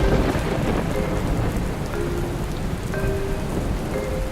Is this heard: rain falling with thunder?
yes